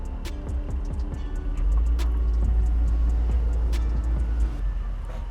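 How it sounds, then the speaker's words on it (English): A 1960 Ford Thunderbird convertible drives along a street on a hot day, its steady low engine rumble swelling slightly after the first couple of seconds, with faint ticking and light clicks over the drone. "We're gonna go ahead and put it into drive and take it for a ride down Ravenswood."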